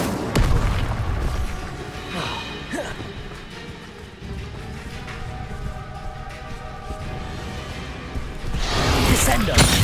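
Spell effects crash and boom during a Hogwarts Legacy duel as Incendio and other spells are cast, with heavy impacts at the start and end and voices shouting over the action.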